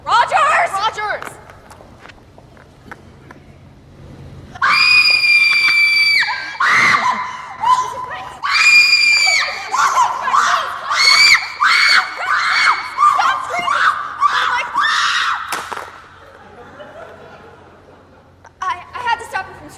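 A person screams repeatedly in high, piercing bursts during a tense scene on an island, with voices shouting and loud overlapping cries over roughly fifteen seconds.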